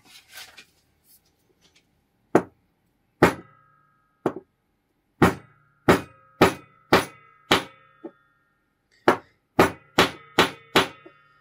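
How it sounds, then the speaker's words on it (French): A hammer strikes a simple ammunition reloading kit to knock out spent primers from 11mm Gras cartridge cases, giving a dozen or so sharp metallic blows, some spaced and then a quicker run of hits, loud and close with no talk. "Marteau, je pense que ce sera plus simple."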